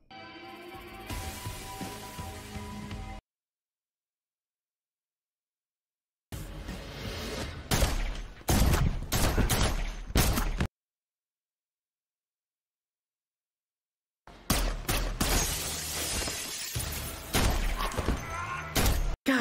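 Gunfire and impacts from an action movie, heard in loud dense bursts of sharp cracks and crashes separated by silent gaps.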